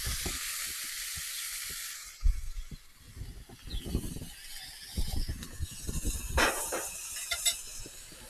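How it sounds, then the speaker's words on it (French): Pepper bacon hitting a very hot oiled plancha griddle: a continuous hissing sizzle with soft clatters and scrapes, flaring louder partway through as more meat lands on the surface. "On va venir y mettre du bacon au poivre."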